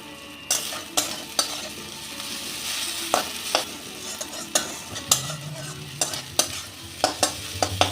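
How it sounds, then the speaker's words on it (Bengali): Grated garlic, ginger and chilli frying with kasuri methi in a pan, a soft continuous sizzle broken by repeated sharp scrapes of a spoon stirring, close and fairly quiet. "রসুন আদা আর লঙ্কাটা গ্রেট করা দিয়ে একটু ভেজে নেব"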